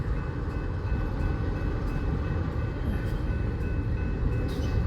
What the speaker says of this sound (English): And here comes a Santa Fe gondola